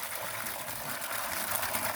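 Spring water pours steadily from a public fountain in Godo, Gemona del Friuli, a soft continuous splashing gush heard close by with no voices.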